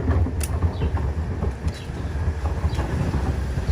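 A New York subway train runs with a steady low rumble and rattling, filling the car with continuous rail noise and occasional brief metallic squeals.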